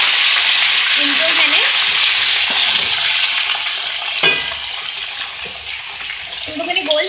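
Sliced potatoes frying in oil with cumin for a breakfast dish, a loud continuous sizzle with occasional stirring scrapes and clinks near the end.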